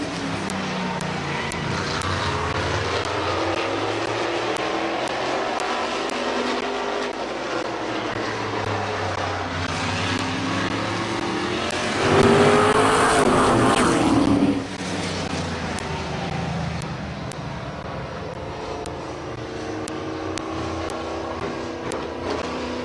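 Race cars at Midvale Speedway in Ohio roar past on the final lap, a continuous loud engine drone with a swelling pass-by that peaks close and then recedes, with no talk over it.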